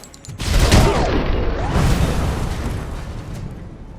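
In the video game RoboCop: Rogue City, a flashbang goes off with a loud, booming blast that rolls into a long, fading roar and ringing hiss.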